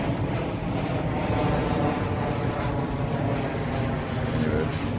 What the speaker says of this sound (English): and got the plane going up over there